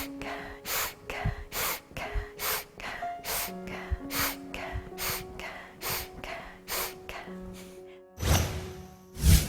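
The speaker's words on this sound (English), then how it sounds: "You put another hand on your tummy and you breathe with the open nostril" Rapid, forceful breaths through one open nostril, about a dozen sharp rhythmic sniffs close up, followed by a louder final breath.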